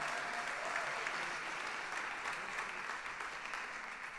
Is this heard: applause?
yes